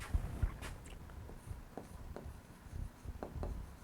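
Chalk or marker scratching on a board during a maths lesson on quadratic equations, a soft irregular series of strokes and taps, faint and fairly close, with room noise and no talk.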